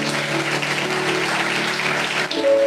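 A church congregation claps and cheers in praise, a dense, steady wash of applause filling the room with a sustained tone underneath, continuing evenly before a brief dip near the end.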